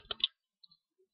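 A few sharp clicks on a computer, as when clicking a link in an email webmail page, come in a quick cluster near the start, followed by two or three fainter clicks in otherwise quiet surroundings.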